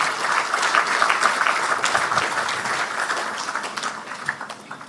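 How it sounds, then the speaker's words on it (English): An audience applauds the police at the opening ceremony of the Gros Islet Police Divisional Headquarters, dense sustained clapping that slowly thins out toward the end. "let's give the Gros Police a round of applause"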